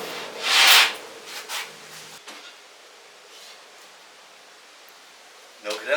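Planer pass over a foam surfboard blank while shaping a Signature model: one loud, brief scraping swish, then a couple of fainter strokes before a quiet stretch and a short rasp at the end.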